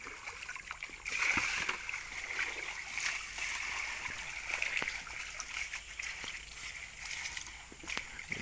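Water poured and splashing over sediment while prospecting for gold beside a forest river, a continuous close rushing trickle with small splashes and clatters throughout.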